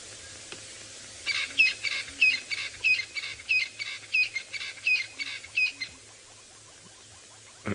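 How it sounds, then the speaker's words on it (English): Birds at sunrise on a safari drive, francolins and hornbills, give a rapid series of about ten sharp, evenly spaced calls over a faint hum, close and clear with no talking. "Hornbills working themselves into a frenzy."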